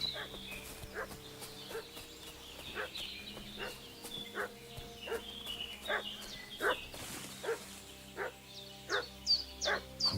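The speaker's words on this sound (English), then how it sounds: "Słyszę jakiegoś psa." A dog in Kingdom Come: Deliverance II barks repeatedly in a steady series of sharp barks, moderately distant at first and growing louder and closer toward the end, over faint ambient background and occasional bird-like calls.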